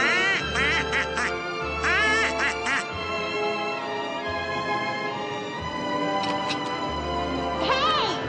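A duck quacks in repeated bursts of loud, nasal calls in a comedy scene, with a background music bed and people talking between the quacks.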